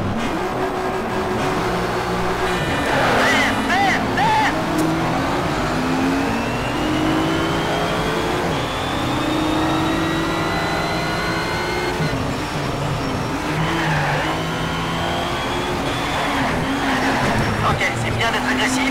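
Race car engines rev and accelerate during a race in the Shift 2 Unleashed video game, with rising and falling engine whines and occasional tyre noise, steady and fairly loud.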